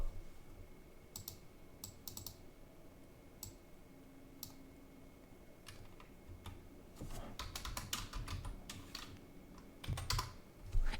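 Typing on a computer keyboard while writing C# code: scattered, quiet key taps in short bursts over a soft background hum, growing busier and louder toward the end.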